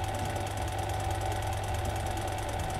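An industrial sewing machine's servo motor runs at low speed with the pedal lightly pressed, giving a steady, even mechanical hum with a faint rhythmic pulse and no pauses.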